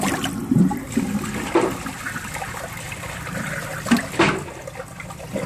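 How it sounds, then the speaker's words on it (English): An early 1960s Universal Rundle front trap toilet flushes in a short, gurgling rush of water with a couple of louder surges, then trickles and refills. "I'm going to pull it up and give it a flush."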